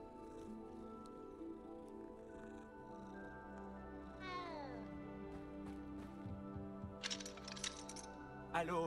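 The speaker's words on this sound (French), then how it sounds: "Un petit minou." A small cat meows several times in Hogwarts Legacy, with rising and falling cries near the middle, alongside game music tones and a few clicky effects near the end.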